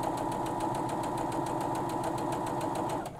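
A Brother Disney M280D embroidery sewing machine stitches out a design, its needle tapping in a quick even rhythm over a steady motor hum, close and fairly quiet, stopping near the end.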